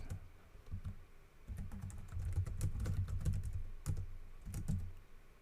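Quiet bursts of typing on a computer keyboard during a programming session, with close soft key clatter in uneven runs broken by short pauses.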